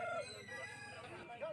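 A rooster at a rural rooster market in Jhargram, West Bengal, gives a fairly faint crow with drawn-out tonal calls at the start and end, amid a low background murmur of the market.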